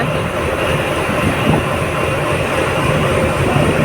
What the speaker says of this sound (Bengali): ওই তো ট্রেনের লাস্ট বগিটা যাচ্ছে